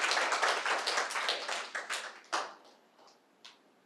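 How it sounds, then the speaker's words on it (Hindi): An audience claps loudly at a Buddhist gathering, a dense burst of applause that thins into a few scattered claps before fading out. "जोरदार तालियां।"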